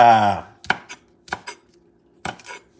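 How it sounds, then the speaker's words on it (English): A knife chops onion and red and orange peppers into tiny pieces on a board, a short burst of voice first, then a few sharp separate chops with pauses between them, close and clear. "And you just cut it in tiny pieces, Same with the onion."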